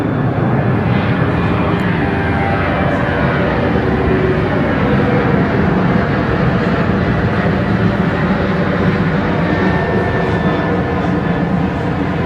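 A Velocity jet climbs out at night after a full-length takeoff roll at Brisbane Airport, giving a steady, broad engine rumble that holds at constant loudness throughout.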